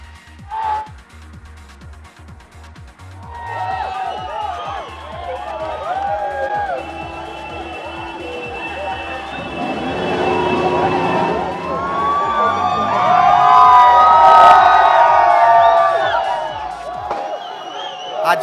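Street celebration after India's ICC Champions Trophy 2025 final win over New Zealand, with a loud crowd cheering and shouting, whistles and siren-like wails rising and building over a rhythmic beat as people voice over it.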